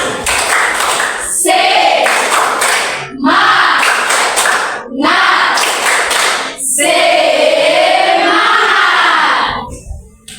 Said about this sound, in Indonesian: kita semua berdiri untuk membuka presentasi kita dengan tepuk semangat